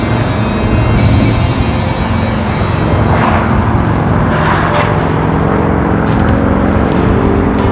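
A Honda Goldwing 1800 motorcycle rolls past at a motorcycle dealer open house, giving a loud, sustained engine roar that swells and eases as it goes by, mixed with other traffic noise.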